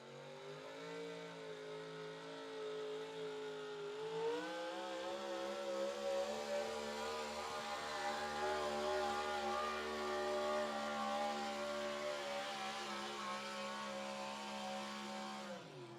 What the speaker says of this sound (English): Had that big Ford Hemi singing.